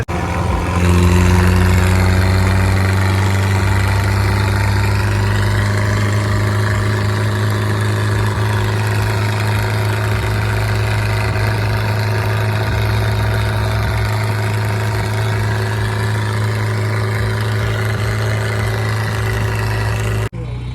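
A tractor engine idles steadily nearby with a constant low, throbbing hum that holds throughout without pauses or talk.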